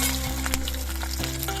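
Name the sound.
coconut pieces frying in hot mustard oil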